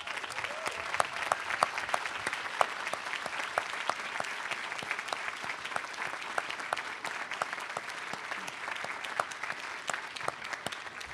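Sustained applause from an audience honoring inductees at a public health institute class day ceremony, a dense, even patter of many hands clapping from a distance, steady throughout with no voices standing out.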